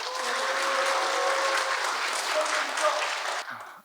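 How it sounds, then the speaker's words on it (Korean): Steady applause with some cheering fills a Korean apartment reconstruction briefing hall, loud and continuous for over three seconds before cutting off abruptly. "한 분 한 분 소개해 드릴 때마다 큰 박수와 함성 부탁드립니다"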